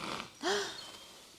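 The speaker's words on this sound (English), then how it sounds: "And there's the yawn." A horse yawns after its first saddling, a quiet breathy exhale with a brief squeaky rising note in the middle, close but faint, fading into soft breathing.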